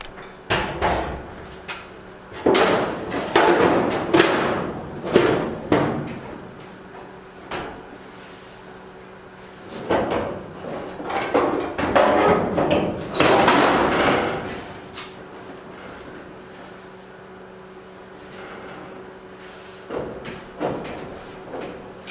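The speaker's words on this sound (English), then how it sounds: "So I'm going to stick the hood back on and the fenders and see what happens." Hood and fenders being fitted back onto an Early Bronco in a workshop: bursts of metallic clanks, thumps and knocks from body panels come in clusters with quiet gaps between, near and fairly loud, with no talking.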